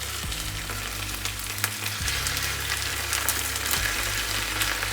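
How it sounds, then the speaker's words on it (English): Potatoes for a Spanish tortilla fry in hot oil in a pan, with a loud, continuous sizzle and periodic scraping stirs, no talking. "I'm gonna go back, stir my potatoes as I don't want it to burn."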